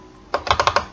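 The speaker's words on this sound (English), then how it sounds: "let's type the price" Typing on a computer keyboard: a quick burst of about five crisp, evenly spaced key clicks, close and clear against a quiet room.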